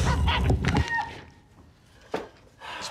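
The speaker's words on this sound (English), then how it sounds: "I got you this chicken" A chicken clucks and squawks close by in short bursts, loud at first and then fading, with a brief sharp call near the end.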